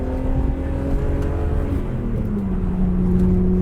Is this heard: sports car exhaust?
yes